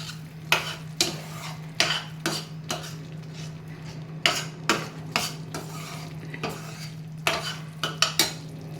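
Pumpkin and jaggery cook in a pan while a spoon stirs them with regular clinking scrapes against the metal, over a low steady hum and no speech.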